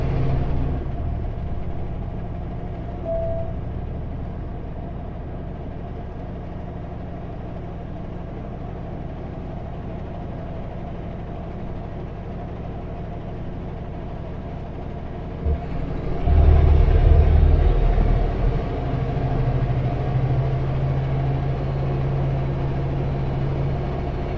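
A heavy truck climbs a hill in Canada at full throttle, its steady diesel drone running continuously and swelling into a louder, deeper roar about two-thirds of the way through.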